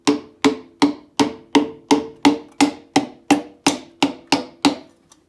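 The wooden side of a hammer taps a piston into a Land Rover Series 2A engine, about a dozen evenly spaced, close, sharp knocks in a steady rhythm, each decaying quickly before the next.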